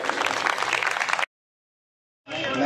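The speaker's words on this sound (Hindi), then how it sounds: "तालियां एक बार फिर।" Crowd applause at a BJP political gathering in Sector 8, Dwarka, Delhi. A brief burst of clapping cuts off into about a second of silence, then resumes and grows louder.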